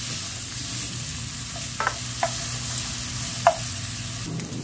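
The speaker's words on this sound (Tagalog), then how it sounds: "papulahin natin ng bahagya yung ating liempo sama ng ating onion at saka yung ating garlic" Pork belly, onion and garlic sauté in a pan with a steady frying sizzle throughout, punctuated by a few sharp scrapes and clinks of stirring, close and alone with no talk.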